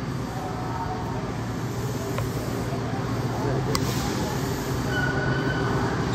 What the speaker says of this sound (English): It's a whole four-car train.